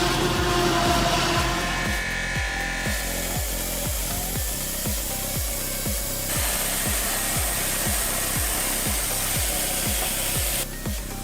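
A loud, continuous machine drone runs with a regular, rapid rhythmic pulsing of cutting as a Clearman HD 848 hydraulic firewood processor saws through logs, with no voices.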